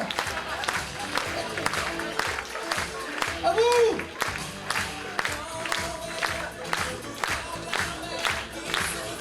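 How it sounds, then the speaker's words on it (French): An audience at a hypnotist stage show cheers and claps in a hall, a dense rattle of claps and shouts under a presenter's voice. "Le public hurle le plus fort de la salle."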